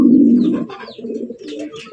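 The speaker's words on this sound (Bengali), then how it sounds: "সাদা ধবধবা এক জোড়া কিং কবুতর দেখতেই পাচ্ছেন" A pair of pure white King pigeons cooing up close, a loud deep rolling coo followed by several shorter throaty coos in quick succession, with no voices.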